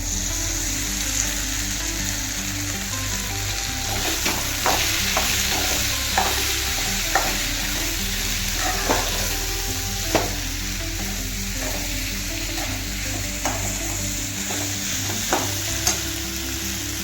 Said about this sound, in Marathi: तर त्याच्यामध्ये आपण फ्राय केलेली भेंडी घालून घेऊया.